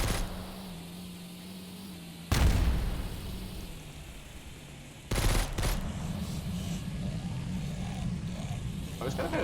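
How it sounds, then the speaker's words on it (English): A car-mounted flamethrower in Road Z: The Last Drive fires in two loud bursts, the second trailing into a sustained roaring rush over engine noise, with talk faintly underneath. "it's just shooting my flamethrower behind me through my window"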